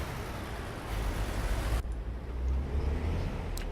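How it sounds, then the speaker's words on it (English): A modded truck engine in American Truck Simulator rumbles in a steady, loud low drone, with a brief shift in tone partway through and no talking. "Also, this is a very realistic truck sound."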